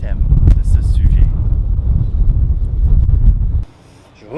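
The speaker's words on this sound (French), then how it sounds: "il fait froid maintenant avec tout ce vent" Heavy wind buffets a microphone outdoors on a cold day, a loud, continuous low rumble that cuts out abruptly near the end.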